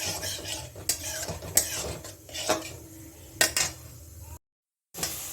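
A spoon stirs yogurt masala in a kadai over a gas flame, sharp metallic clinks and scrapes against the pan over a soft sizzle, ending in a brief silence.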